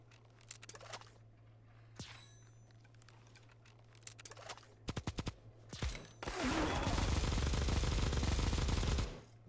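Gunfire in the mobile shooter Bullet Echo, with a few scattered shots early on, then a tight burst of close shots and a long, loud sustained volley near the end.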